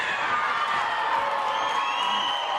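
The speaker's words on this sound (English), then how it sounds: "And the crowd's going bananas." Wrestling show crowd cheering and whooping continuously, a loud dense roar of many voices filling the arena throughout with steady intensity.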